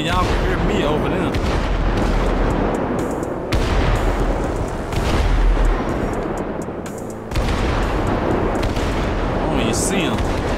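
Repeated heavy booms and crackling bursts of video game fireworks, in Grand Theft Auto V, roll on continuously, loud and close, with several sharper hits punctuating the din and speech mixed in.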